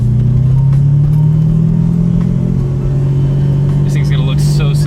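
A V12-powered Toyota Supra engine runs loud at night ahead of tunnel runs, a deep, steady droning roar that holds throughout and dips slightly midway, with muffled voices faintly underneath.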